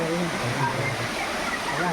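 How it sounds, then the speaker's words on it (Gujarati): Water tumbling down a hidden waterfall at Pavagadh gives a steady, close, broadband rush with no breaks, and a voice speaks over it. "સરસ મજાનું પાણી ઉપરથી પડી રહ્યું છે નીચે"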